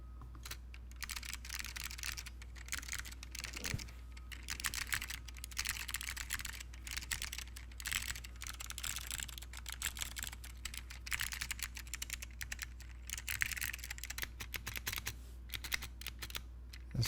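Rapid, steady typing on a mechanical keyboard with Zealio switches and a rattly spacebar, close and continuous for the whole stretch with no talking.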